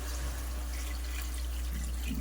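Water poured into a pot of mutton curry before pressure cooking, a steady close splashing trickle without any talk.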